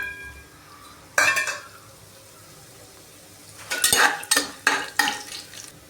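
Biryani masala being stirred into hot ghee in a pan, with a quiet sizzle under scraping spoon strokes and a cluster of sharp metal clinks against the pan toward the end; no talk.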